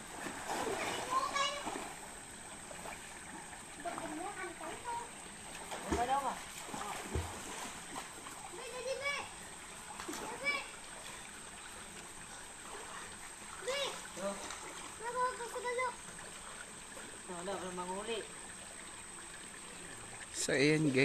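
Splashing water at a cold spring swimming spot, with bursts of splashes from people jumping in and rustling water, scattered over a long stretch while voices, including children, talk nearby.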